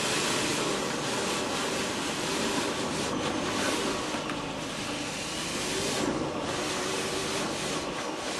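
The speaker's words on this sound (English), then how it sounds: "Waterfall." A waterfall pours with a steady, loud, unbroken roar of rushing water that holds constant throughout.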